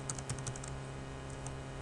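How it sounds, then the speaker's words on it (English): Keys clatter on a computer keyboard as a password is typed, a quick run of close, light taps over a faint steady hum. "So I'm going to type in my password that I have for my Coastal accounts."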